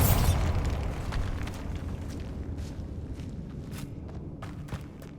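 A Bombarda spell blasts a barricade in Hogwarts Legacy: a heavy booming explosion up front, then a rumbling tail with scattered debris clatters and thuds settling over several seconds.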